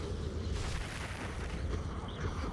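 A fire spell cast in Hogwarts Legacy on PS5 during combat, a dense continuous roar of blasts and rumbling booms that fills the whole moment at steady loudness.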